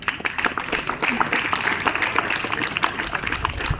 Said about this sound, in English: please give a huge round of applause to all of them